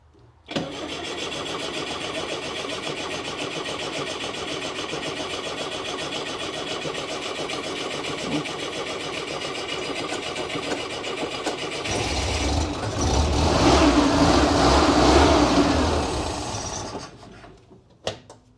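A 1975 Pinzgauer with choke applied and a somewhat weak battery cranks in a long, fast, rhythmic churn, then catches and revs loudly before cutting off, close and alone.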